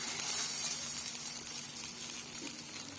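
Mung bean tiffin snack frying in a small amount of oil in a pan, a steady close sizzle running evenly throughout with no talk.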